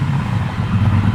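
Triumph Bonneville Bobber motorcycle engine idling at roughly 1,450 RPM, a steady low rumbling throb heard close up and alone.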